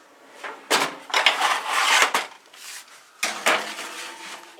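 Sub rolls go into a home oven, with a few clattering knocks of metal and pans sliding in, close and moderately loud, in irregular bursts with short pauses.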